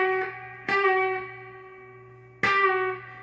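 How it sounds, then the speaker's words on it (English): Electric guitar notes in a blues lesson, two sharp plucked attacks whose bright harmonics ring and quickly slide downward, close and clear with a low steady hum beneath. "then you're gonna do this very fast descending bend"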